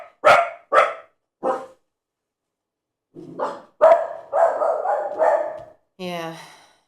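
Several dogs barking close by in short separate bursts: three quick barks, a pause, then a cluster of barks and yips.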